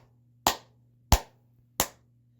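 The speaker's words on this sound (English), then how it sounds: "let's clap them loud" Three loud, sharp hand claps evenly spaced about two-thirds of a second apart, close by over a low steady hum, during a circle-time singing game.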